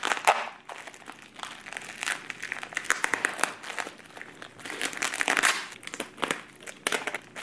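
Packaging wrapped in lots of tape crinkles and rustles as it is torn open, in bursts of crackling handled close up, with no speech.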